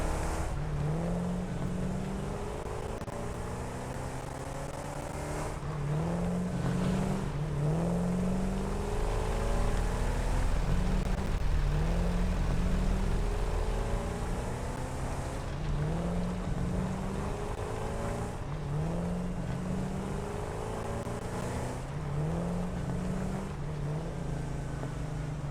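A truck drives in the video game Satisfactory, its engine a steady, moderately loud drone with repeating rising revs and a constant rushing wind layer, with no talk.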